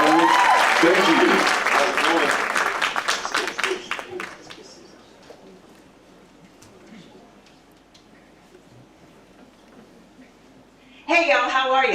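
Audience applause and cheering at an NC State engineering event swell loudly for about four seconds, then fade into near silence before a voice begins speaking.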